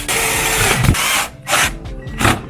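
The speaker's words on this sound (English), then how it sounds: "First things first, you gotta drill this thing in" Loud whirring power drill running close up in several bursts on a leather splitter, the motor speeding and slowing between pulls of the trigger.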